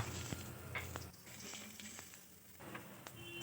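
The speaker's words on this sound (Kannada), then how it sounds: "ಟೊಮೊಟೊ ಕಟ್ ಮಾಡಿ ಇಟ್ಕೊಂಡಿದ್ವಲ್ಲ ಅದನ್ನೂ ಹಾಕ್ಕೊಂಡು ಎಣ್ಣೆ ಹಾಕಿ ಸ್ವಲ್ಪ ಹುರಿಬೇಕು" Chopped raw tomatoes frying in hot oil for a North Karnataka raw tomato chutney give a steady, close sizzle with occasional soft scrapes of stirring.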